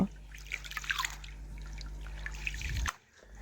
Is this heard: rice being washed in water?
yes